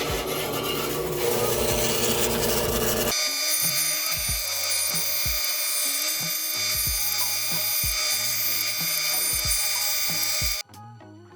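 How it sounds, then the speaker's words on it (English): A bandsaw cuts a 12-inch wood circle, a loud, steady rasping and grinding drone that runs for several seconds with a rhythmic ticking underneath, then cuts off abruptly near the end. "Fire up the bandsaw."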